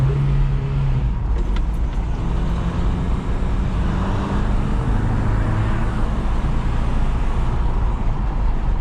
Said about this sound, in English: Dude, she is being rough. I have to keep the RPM high.